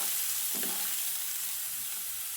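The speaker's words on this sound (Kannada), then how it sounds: "ಈರುಳ್ಳಿ ಕೂಡ ಲೈಟಾಗಿ ಫ್ರೈ ಆಗಬೇಕು." Onions frying lightly in a pan for a high-protein vegetable palya: a steady, soft sizzle with a brief stir near the start.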